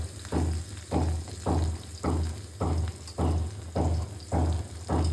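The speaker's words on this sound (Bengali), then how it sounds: "এখন আমি দিয়ে দিব পেঁয়াজ আর শুকনো মরিচ দুটো ফ্রাই ফেলবো" Onion and dried red chilies fry in a pan for a leafy greens dish, heard as steady, rhythmic scraping strokes about twice a second over a low sizzle, close and fairly loud, with no talking.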